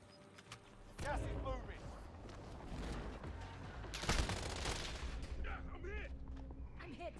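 Video game gunfire from an online shooter crackles in dense bursts and rapid volleys, with booming impacts and chirping effects under excited player voices talking throughout.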